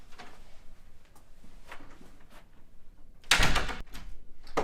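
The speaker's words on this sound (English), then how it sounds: "Get the door, would you, Toots?" A door opens and shuts with a few soft knocks and shuffles, then a louder burst of rattle and thump near the end.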